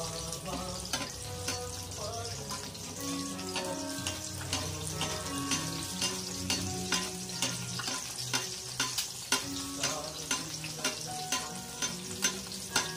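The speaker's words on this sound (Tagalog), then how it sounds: "ginaligo-ligo o mantika cuy ang itlog cuy para malutok tarong" An egg fries in cooking oil, crackling and sizzling steadily up close, with sharp spatters and a spoon ladling the hot oil over it while music plays underneath.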